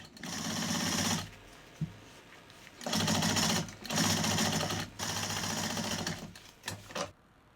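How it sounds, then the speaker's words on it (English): A sewing machine top-stitching folded denim belt loops for high-fashion pants runs in loud rapid bursts of stitching, pausing briefly between runs, close and without talk. "I fold both edges on top of each other and then I top stitch."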